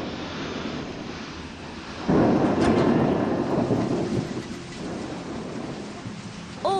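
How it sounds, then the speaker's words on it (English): Heavy rain begins suddenly in Mexico as clouds fill the sky, a steady loud downpour hiss swelling abruptly partway through and continuing alone with no talk. "suddenly the skies were filled with clouds and it started to rain heavily"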